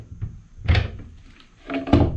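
A wooden trap door in a treehouse swings open and shut, giving a few dull knocks and thuds with faint creaks in between, heard nearby and without talk.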